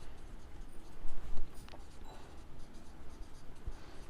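Pen writing on paper during an accounting lesson, soft close scratching and light tapping strokes in an uneven run over a low room rumble.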